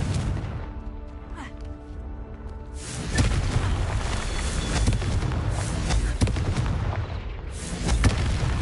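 Confringo fire spell blasts in Hogwarts Legacy, a run of booming impacts and crackling bursts after a quieter opening, repeated at irregular intervals over game sound.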